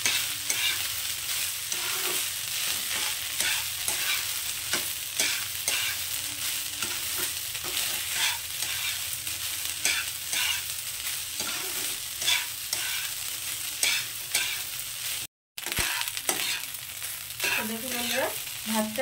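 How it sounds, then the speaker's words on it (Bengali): Cooked rice fried in a pan over a high flame for curd rice, with a dense, constant sizzle and repeated scraping stir strokes close up, briefly cut off near the end. "এবার ভাতটাকে আমি খুব ভালো করে ভেজে নেব।"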